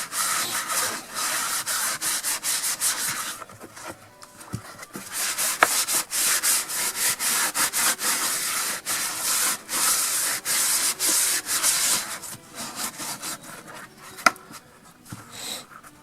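A plant pot, emptied after repotting a jasmine, is scrubbed with water and white wine vinegar, giving repeated close rasping rubbing strokes in bursts with short pauses and an occasional sharp knock.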